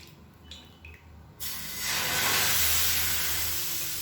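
Dosa batter poured onto a hot griddle, a quiet start with faint clatter giving way to a loud, steady broadband hiss of sizzling that swells and holds to the end.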